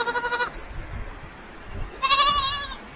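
Goats in an autumn garden bleat twice, one near-sounding bleat at the start and another after a short pause, over quiet outdoor background.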